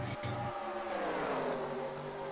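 Several stock cars race in the NASCAR Racing 2003 video game at Auto Club, their engines droning loudly and steadily throughout, with pitch sweeping as cars jostle for the lead in close traffic.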